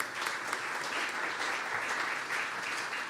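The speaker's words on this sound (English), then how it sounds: "Just another round of applause for Folk Alliance." A crowd at the Australian Folk Music Awards applauds, a full, even roar of many clapping hands sustained without a break for several seconds.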